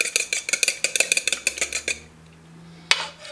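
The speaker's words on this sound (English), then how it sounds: "break in the yolk and you're going to mix it. Just mix it, beat it" Eggs beaten in a bowl give a quick run of rhythmic clinks and scrapes, utensil against the bowl, close up and steady for about two seconds before stopping, followed by a single sharper knock near the end.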